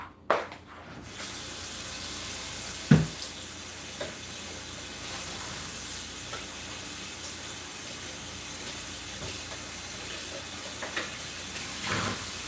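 Tap running steadily while something is rinsed under it in a kitchen during almond milk preparation, a continuous hissing spray with a few sharp knocks and clunks, close and fairly quiet, with no voices.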